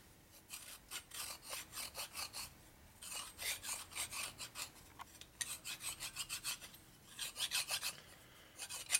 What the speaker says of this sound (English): This file has a smooth back so it doesn't tear up the gun block.